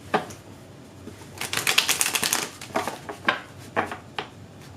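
Tarot cards riffled and shuffled in quick bursts, a dense fluttering run followed by several shorter snapping shuffles, close and clear.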